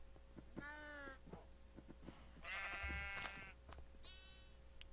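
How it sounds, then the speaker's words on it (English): Sheep bleating in a blocky sandbox video game, three distinct wavering bleats spaced a couple of seconds apart, mid-loud and clear over a low background hum with soft clicks. "We got a pink sheep now."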